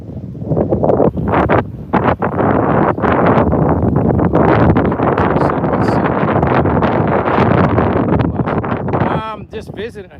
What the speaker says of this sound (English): the wind is getting loud